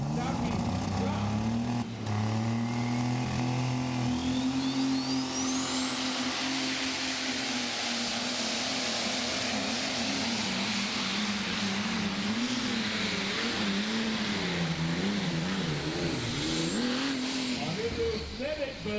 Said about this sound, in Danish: Så er den norske Frode Hoppestad med traktoren Daffy klar